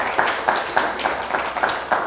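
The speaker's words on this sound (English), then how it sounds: "Clap for yourselves." An audience claps for themselves at an entrepreneurs' talk, producing quiet, moderately distant clapping with a few sharper bursts of claps standing out, and no talking over it.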